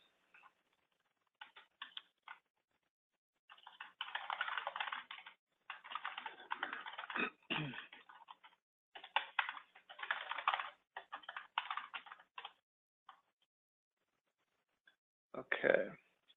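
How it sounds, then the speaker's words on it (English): Bursts of rapid keystrokes on a computer keyboard, typed in clusters with short pauses between, fairly close and moderately quiet, with no talking. "Let me just type in an answer while everyone's"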